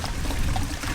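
Liquid fertilizer from a Biopod composter pours and splashes outdoors, a steady close wet gush with no talk.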